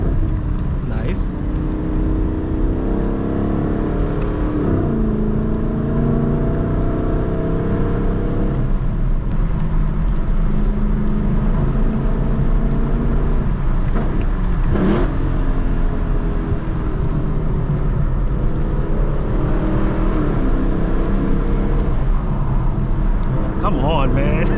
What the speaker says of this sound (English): Oh yeah, downshifts, baby, downshifts.